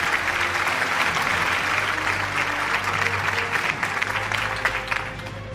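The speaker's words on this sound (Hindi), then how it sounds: "भरपूर तालियां होनी चाहिए खातिन आजाद जहीर कालू साहब के लिए" An audience at an annual award show claps for an award winner. The applause is full and continuous, with a low hum of crowd noise underneath, and it eases slightly toward the end.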